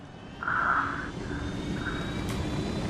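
A helicopter in the video game Ghost Recon Wildlands drones steadily with a broad engine and rotor rumble, swelling briefly louder before settling into a constant hum, with no voices.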